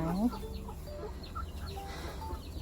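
Hens on a small Thai poultry farm, laying hens and fighting-breed hens, give faint, scattered clucks and short calls. A brief low voice is heard at the start.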